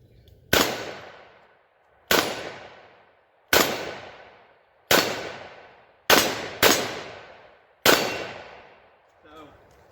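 Six loud, sharp .357 Magnum shots from a Smith & Wesson 686 Plus revolver with a 2.5-inch barrel, spaced about a second or more apart, each with a ringing decay, no talk.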